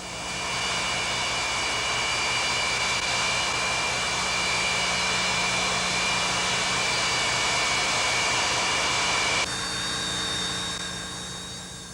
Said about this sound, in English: The AN-225 has the same engines as the AN-124, Lotarev D-18s, but it has 6 of them instead of 4